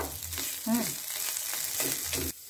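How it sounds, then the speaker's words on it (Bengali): Chicken fuchka shells fry in hot oil with a continuous close sizzle and bubbling crackle, broken by a brief squeaky scrape midway, before the sound drops away at the end. "আমি এবার ফুচকাটা ভেজে নেব"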